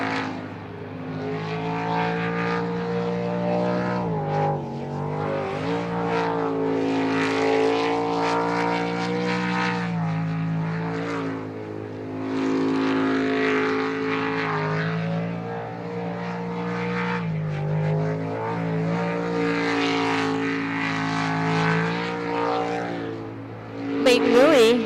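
Racing boat Pulse Boat 27 "Preventing Insanity" at an ASBR pro sprint boat race in Yakima, Washington, its engine holding a loud, steady, rising-and-falling drone for the whole stretch while an announcer talks over it.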